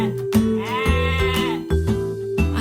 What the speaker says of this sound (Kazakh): Қой маңырайды.